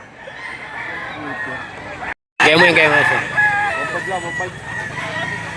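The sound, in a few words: roosters crowing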